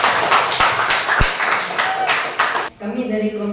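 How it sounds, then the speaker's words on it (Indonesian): Classroom applause for a student group after their presentation, a dense burst of clapping from many hands lasting a few seconds before cutting off abruptly, followed by a voice beginning to speak. "tepuk tangan untuk kelompok 3"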